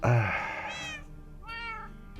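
Several cats meow in a video game, a loud drawn-out meow followed by two shorter higher cries, heard alone with no speech over them.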